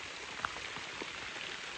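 Rain falls steadily on a hiking trail in the Dolly Sods area of West Virginia, a soft, even patter with occasional louder drops, faint and continuous with no voices.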